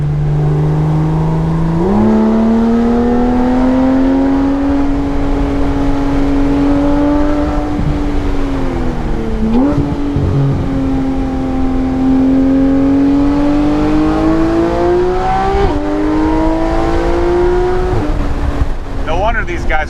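A Porsche 911 GT3 engine holds a steady, loud drone as it drives on a track, pitch rising and dipping through shifts and throttle changes with no other sounds over it.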